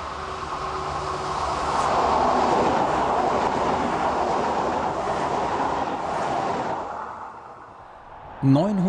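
A diesel ICE train rolls past over the Fehmarnsund Bridge with a steady, loud rumbling clatter that gradually fades, followed by a brief voice at the very end.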